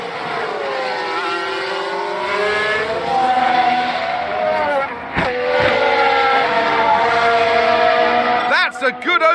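Race cars in the F1 Manager video game roar past one another while overtaking, with engine pitch sweeping up and down across the clip and a sharp burst near the end, heard under a commentary voice.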